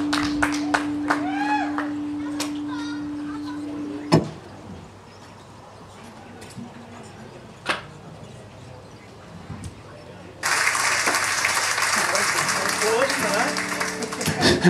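Audience applause at a live gig with a harp player, a loud burst of clapping near the end following a few scattered claps, with some talk heard beforehand.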